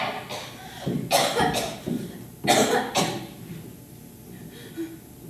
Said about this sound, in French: j'ai attrapé cette affreuse toux